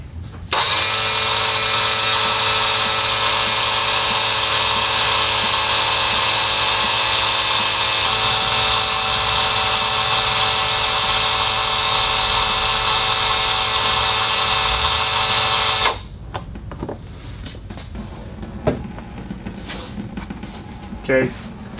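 Yamaha outboard power trim and tilt pump running hard to push the tilt piston out during a trim seal repair, a loud steady electric whine and hum for about fifteen seconds that cuts off abruptly, leaving quieter clicks and handling noises.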